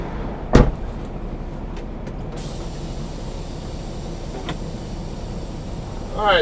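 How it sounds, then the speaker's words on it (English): Cargo doors of a Sysco delivery truck swing shut at a Las Vegas food warehouse, one loud slam early on followed by faint clunks and a steady background hum, with a rattling scrape near the end. "I think I can close my doors also."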